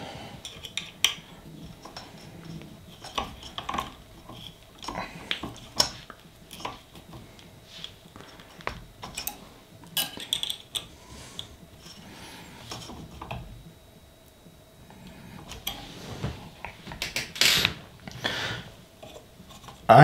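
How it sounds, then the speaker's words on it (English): Tightening a bolt on an aluminum extruder upgrade for an Ender 3 3D printer, heard as a run of close, crisp ratcheting clicks and small metallic tool sounds in irregular bursts. "Then we can go ahead and tighten this bolt up."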